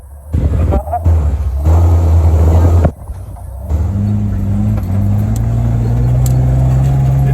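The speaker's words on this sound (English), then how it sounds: "Now we watch Tim roll his Jeep." A Jeep Wrangler driving off road, its engine rumbling loudly and revving, with the pitch rising as it climbs, plus scraping and bumps from the terrain, close and continuous.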